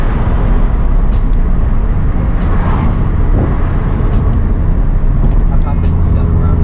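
Nissan 350Z with a manual gearbox cruising on a public road, a loud constant engine drone and road roar from inside the cabin with faint clicks over it.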